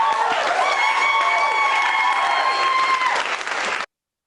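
Applause from participants on a Zoom call during an online event, a dense, steady clapping that carries for about four seconds and then cuts off abruptly.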